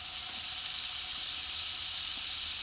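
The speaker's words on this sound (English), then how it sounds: "I'm gonna take a half a stick of butter and drop it down in here with this" Half a stick of butter melts in hot bacon fat in a skillet, a steady bright hiss and crackle of frying that holds even and close throughout with no talk.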